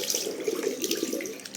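Water runs steadily from a tap during washing, a close, continuous gush and splash.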